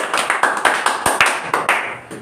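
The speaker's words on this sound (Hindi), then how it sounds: "जोरदार ताली बजाएंगे।" Students in a coaching classroom clap loudly together in a short burst of sharp, rhythmic claps that trail off near the end.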